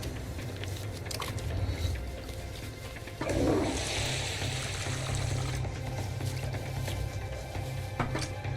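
Water runs from a tap with a soft, steady hiss that swells into a fuller gush for a couple of seconds. The flow then cuts off abruptly, leaving only low background noise.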